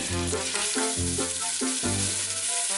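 Beef cubes frying in hot vegetable oil in an Instant Pot, with a steady close sizzle and a few rhythmic stirring or scraping strokes in between.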